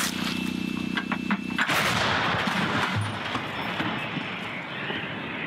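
A Hyacinth-B 152 mm long-range howitzer fires a single booming shot whose blast rolls into a long, loud, rumbling decay and echo, following a steady background hum.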